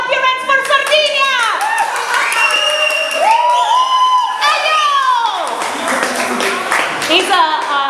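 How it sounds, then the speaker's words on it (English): An audience claps and cheers for a performer from Sardinia at a live music show. Crowd applause, shouts and whoops run steadily for several seconds under loud, animated voices. "Please clap your hands for Sardinia!"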